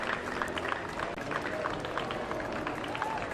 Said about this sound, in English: as you can hear, the crowd is also cheering her on